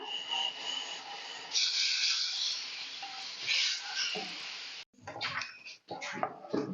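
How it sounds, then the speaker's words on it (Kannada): Boiling water pours in a steady hissing stream onto semolina for several seconds, then stops abruptly, followed by brief scraping and stirring sounds. "ಆ ರವೆ ಒಳಗಡೆ ಕುದಿತಾ ಇರೋ ನೀರನ್ನ ಸ್ವಲ್ಪ ಹಾಕ್ಕೊಳ್ಳೋಣ"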